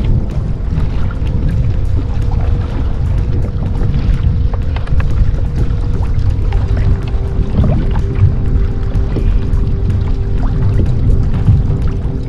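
Water is poured and drunk during a break from kayak fishing out on the water, with a continuous gurgling, splashy wash and small drips close by, alongside a low rumbling background.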